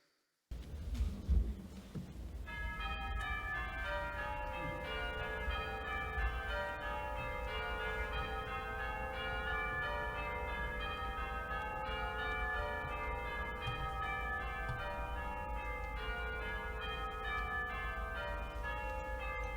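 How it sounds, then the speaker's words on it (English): Church bells ring out in a recording played on the Hammond Castle pipe organ, sustained overlapping chimes with a dense tonal wash, loud and steady for nearly twenty seconds with no talking. "Those are the literal bells."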